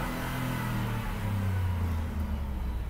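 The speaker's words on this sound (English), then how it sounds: "We'll rev it up a little bit too," A supercharged 2014 Ford Raptor pickup engine revs up, its deep low rumble and blower rising to a peak and settling back, steady and fairly close.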